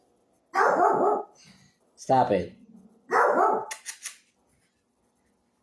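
A dog barks up close in a few loud, separate outbursts, and a person speaks briefly between them.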